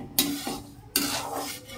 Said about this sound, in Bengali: এখানে সুজিটা একটু ভেজে নেব আগে